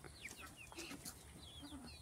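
Chickens, an Americana mix with tufted heads, cluck and chirp softly close by in a garden, short overlapping calls against quiet background rustle.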